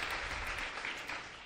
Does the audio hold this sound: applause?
yes